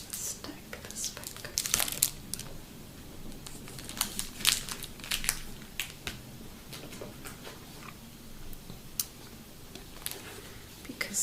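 Sheets of paper being handled and stacked, with soft crinkles, rustles and sharp crisp snaps in irregular bursts, close and quiet in a hushed setting.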